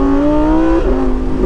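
Lamborghini Huracan EVO RWD Spyder engine, loud and close, with a continuous revving tone that holds, drops as it downshifts into first, then climbs again as the car accelerates out of a corner.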